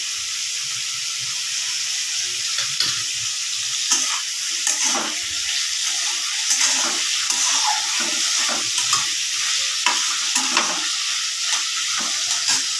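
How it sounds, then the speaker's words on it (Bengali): Sliced pointed gourd seasoned with salt and turmeric fries in hot oil in a pan, a steady close sizzle and hiss running throughout, broken by occasional scraping stirs and small pops. "পটলটা ভালো করে ভেজে নেব"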